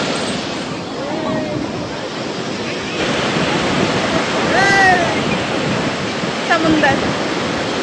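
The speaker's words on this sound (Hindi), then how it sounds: "नेवर ट्रस्ट लहरें" Sea waves break continuously on the beach at Puri, a broad, loud rushing surf with wind noise, while a few faint voices and calls rise briefly over it.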